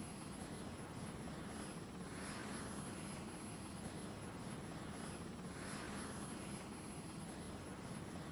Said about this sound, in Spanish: Helicópteros.